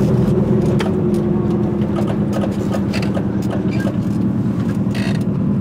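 A car engine holds a steady, loud, close mechanical drone with a continuous low hum and faint rattles and creaks on top, without distinct rising revs.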